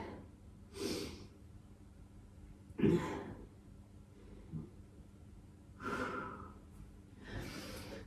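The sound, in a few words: breathing while resting in yoga child's pose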